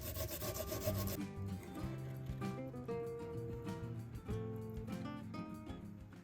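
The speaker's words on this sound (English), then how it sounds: "I'm going to peel the skin and then I'm going to grate the ginger" Fresh ginger is peeled and grated by hand, giving quiet, repeated rubbing and rasping strokes at close range over a low, busy kitchen background.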